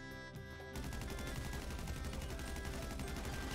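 Gunfire in the video game GTA V bursts out suddenly and keeps going as a dense, continuous volley of rapid shots, loud and unbroken after a brief quieter start.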